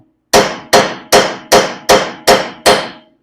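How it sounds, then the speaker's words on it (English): A hammer strikes metal against a tie rod on a 1973 Ford Mustang during suspension removal, seven loud, evenly spaced metallic blows ringing close up with no talking. "get the hammer on the other side, and then smack it."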